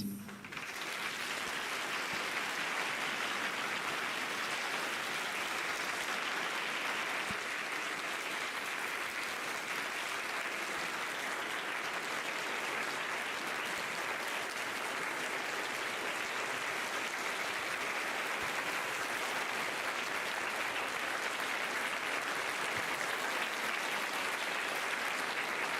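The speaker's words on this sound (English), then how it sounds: "Please give them a round of applause." A hall audience at a speaking competition gives sustained, dense applause as ten speakers leave, a steady loud wash of clapping lasting the whole stretch.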